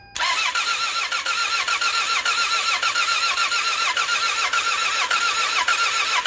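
A Toyota Camry engine with 356,000 miles cranks over on its first start after a transmission swap, fuel injectors and coils unplugged, giving a loud, steady, rhythmic starter whir that runs without pause.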